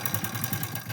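An old-model motorcycle idles at a roadside checkpoint, its engine throbbing in a steady, close, low pulsing rhythm with no talk over it.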